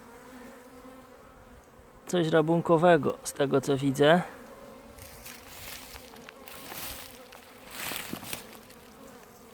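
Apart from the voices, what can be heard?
bees flying in a forest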